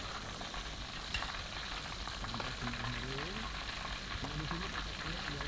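Ayam pop chicken frying in hot cooking oil, a steady dense sizzle lasting throughout, with faint background voices and clinks from the kitchen.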